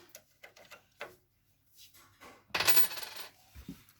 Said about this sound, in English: We'll insert a coin, push it a bit, and then bring it down, open it up.